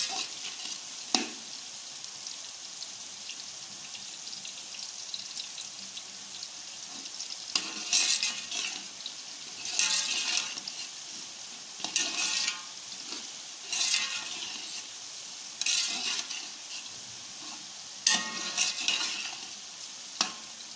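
Onions browning lightly in a pan give a soft continuous sizzle, broken by repeated bursts of scraping and stirring at irregular intervals over roughly twenty seconds, close and with no talk.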